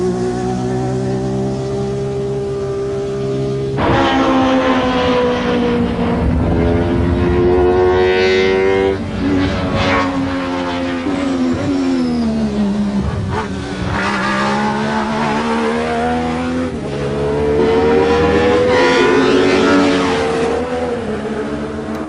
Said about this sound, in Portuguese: mostrar para vocês o ronco do motor